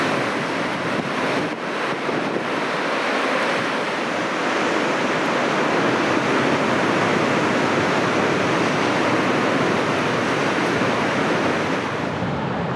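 Surf breaking near a coastal headland in Bouddi National Park, a steady, dense wash of churning water with wind rushing across the microphone, continuous and fairly loud with no voices.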